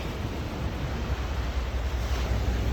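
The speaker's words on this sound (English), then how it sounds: "some of the water splashing against the edge of the waves" Ocean waves splash steadily against the shore under a constant wind-blown roar, a dense broadband wash with no clear breaks and no voices.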